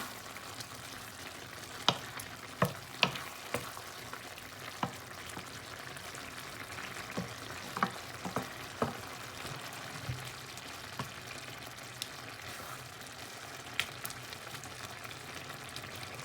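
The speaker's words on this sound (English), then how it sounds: "we just need to turn our rice a little bit like that, so it's mixed together" Vegetable rice frying and being turned in a pan gives a soft, steady sizzle throughout, with scattered sharp clicks and taps of stirring spaced irregularly, heard close and fairly quiet with no voices.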